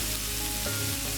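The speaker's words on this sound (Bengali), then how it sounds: "এবার এই পেঁয়াজ রসুনটা একটু ভাজতে হবে, হালকা বাদামি কালার হবে" Onion and garlic fry in a pan, browning lightly, with a steady, even sizzle close by that holds for the whole brief moment.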